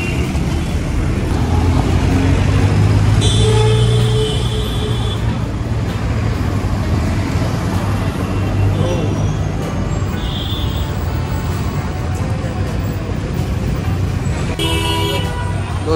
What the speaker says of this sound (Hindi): ये ट्रैफिक आप देख ही रहे हैं कैसा रहता है यहाँ पर।